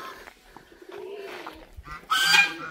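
Pigeons on a farm, cooing and calling across a short stretch, with a louder, fuller burst of calls near the end.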